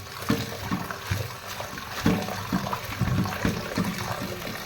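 Thai velai leaves being rinsed by hand in a vessel of water, with repeated splashing and sloshing in an uneven rhythm of soft bursts, close by with no talking.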